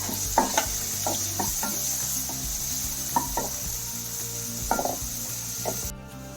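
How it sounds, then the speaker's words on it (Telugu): Sliced onions with green chillies fry in a pan for mutton curry, a steady bright hiss under intermittent wooden scraping and stirring taps, close up and without speech. "పచ్చిమిరకాయలు వేగినాక ఉల్లిపాయలు కొంచెం సేపు వేగనివ్వాలి"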